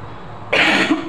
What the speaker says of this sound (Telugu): వింటర్ కదండి, కొంచెం గొంతుకు రప్పు చేసింది, అందుకు కొంచెం దగ్గు వస్తుంది